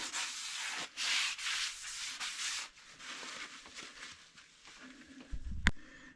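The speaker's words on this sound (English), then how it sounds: "get this rotor cleaned off" A front brake rotor on a Honda Odyssey is rubbed clean by hand, giving close, repeated scrubbing strokes that end with a sharp metallic clank.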